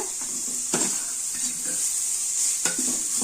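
A spoon stirs grated carrot frying in ghee, giving a steady hiss and sizzle with a few sharp scrapes and taps against the pan, close and even throughout.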